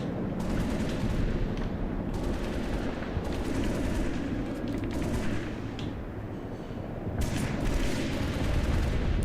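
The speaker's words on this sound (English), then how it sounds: "Are they shooting at me and just..." Sustained, dense gunfire and explosions from a Halo: Reach battle, loud and continuous with bursts of automatic fire throughout and a brief lull near the middle.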